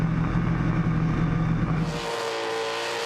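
A car does a burnout at an Australian burnout competition at Red CentreNATS, with a loud, sustained engine roar and tire noise that drops in pitch and intensity partway through, settling into a steadier, thinner drone.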